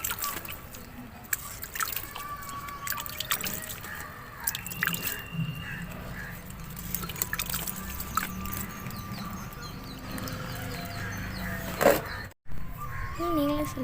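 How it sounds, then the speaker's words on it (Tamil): Water is sprinkled over freshly sown purple mookuthi avarai bean seeds in a garden bag. Soft, scattered drips and trickles run throughout, with faint bird calls and children's voices in the background. "இப்போ தண்ணியை தெளித்து விட்டுக்கிறோம்."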